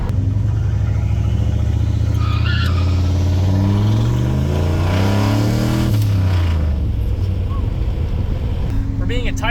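A tired old turbocharged 4.8 truck engine with a 3-inch downpipe exhaust dumping at the axle revs loudly up and down several times, its deep unmuffled roar rising and falling close by.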